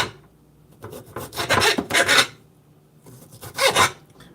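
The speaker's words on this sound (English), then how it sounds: "I've got a glass cutting board." A knife cuts peppers on a glass cutting board with rasping, scraping strokes in two bursts, the first a run of several quick strokes and the second shorter, close and moderately loud with quiet gaps between.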